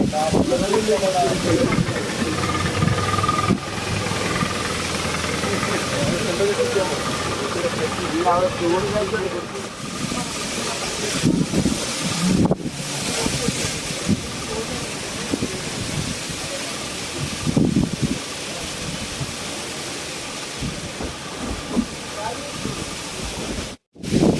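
Boat engine running while on board, heard near the engine area as a steady loud hissing drone with mechanical rumble throughout, voices talking over it at times.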